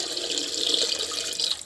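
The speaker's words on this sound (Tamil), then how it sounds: "இது வந்து பார்த்திங்கன்னா கொஞ்சம் தண்ணி ஊற்றிட்டு" Tap water runs into a pot being filled for boiling eggs, a steady close splashing stream lasting under two seconds before cutting off.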